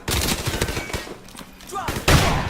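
Marines open up with rifles and automatic weapons in Call of Duty Modern Warfare, a loud, chaotic fusillade of overlapping shots with a brief lull before another heavy burst, voices shouting amid the firing.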